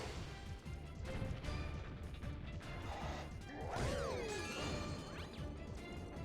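Glass shatters in the Super Mario Galaxy story finale, with loud crashing smashes and whooshing swipes over game effects.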